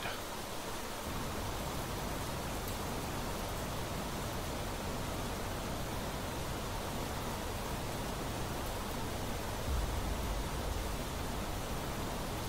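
Rain pours in the video game Planet Crafter, a dense, loud, unbroken wash of hiss that fills the whole stretch with no voices.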